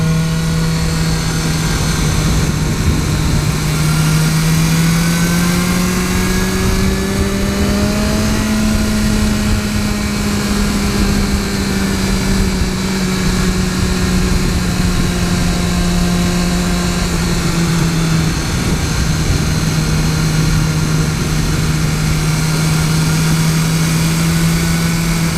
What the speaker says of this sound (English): So when you get on the throttle, it's actually very responsive in third gear.